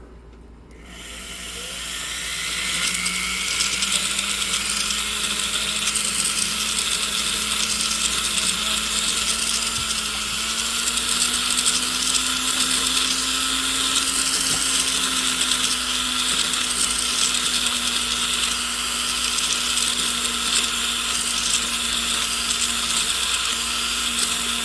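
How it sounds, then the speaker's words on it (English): A rotary tool fitted with a silicone wheel smooths the inside of a gold ring, giving a continuous high whirring whine with a steady motor tone and scratchy abrasive texture, close and sustained after a brief spin-up. "Now we got to use our silicone wheel. We'll go ahead and smooth the inside of the ring first"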